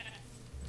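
A short, faint sheep bleat from Minecraft opens the moment, followed by quiet low rumbling in the game's background.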